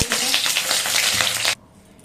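Potatoes frying in hot oil in a pan give a loud, steady crackling sizzle for about a second and a half, then cut off abruptly into near silence.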